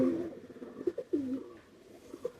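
Pigeons coo close by, a few soft throaty rolling calls in short bursts over quiet background noise, with no talk.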